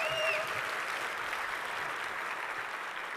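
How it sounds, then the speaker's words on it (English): Conference audience at a tech talk applauding in a large hall, a steady, moderately distant wash of many hands clapping that holds evenly for a few seconds. "Yes, applaud."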